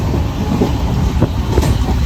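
Loud, close rumble of a moving train on the tracks, continuous and heavy with occasional clacking wheels.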